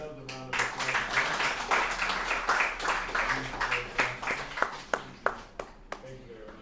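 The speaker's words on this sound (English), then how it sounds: "So let's give ourselves a round of applause." An audience applauds at the end of a lecture on names in decolonial cultural thought: a dense wash of clapping that thins into a few louder scattered claps, with a voice heard at the start.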